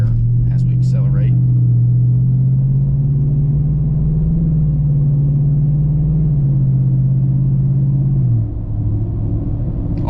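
Wide 33-inch Landspider Wildtraxx MT mud tires on 24x12 wheels roar on the interstate as the vehicle accelerates, a loud, steady droning hum that holds and then drops in pitch near the end, with a brief voice at the start.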